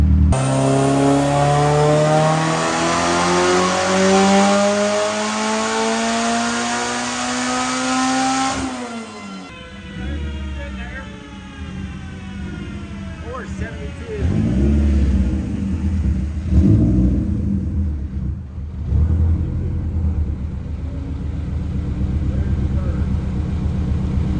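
A tuned Chevy Cruze diesel with boost turned up revs hard, its engine note climbing steadily before cutting off, then rumbling and surging again in bursts.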